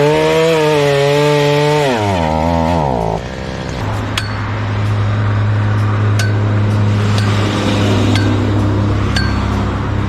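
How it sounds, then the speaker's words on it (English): A powered post hole digger works beside a front gate being fitted with an electrical box and lights. Its engine drones loudly and shifts pitch before settling into a steady grind, with sharp metallic clinks at intervals. "it's post hole digging time"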